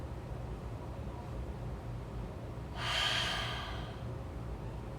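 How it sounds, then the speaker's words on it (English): Slow, deep breath drawn in and released during a Pilates stretch, a single soft airy exhale rising over steady low background hiss, close and calm. "Keep breathing"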